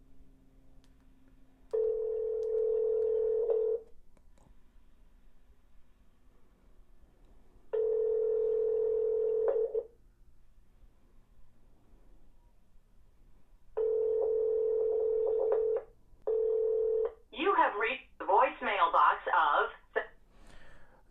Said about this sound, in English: Dialing on the XB3.